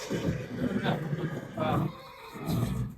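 A Kathiawari horse on a farm neighs in short, throaty calls that repeat a few times at close range, while people talk nearby over the animal's whinnies.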